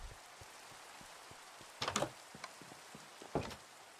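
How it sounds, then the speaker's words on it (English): Rain in the Minecraft video game falls as a steady soft patter of drops throughout, with a few louder clicks and knocks rising briefly above the wash, and no talking. "Getting rid of this rain so we can actually talk and hear ourselves."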